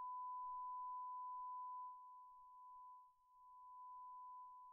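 Loud censor bleep on a recording: one steady, unbroken tone held for nearly five seconds, alone over silence, with a slight dip in level partway through.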